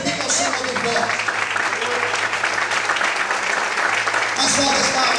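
A church congregation claps loudly and steadily, a dense wash of applause filling the room for the whole stretch, with voices mixed into the noise.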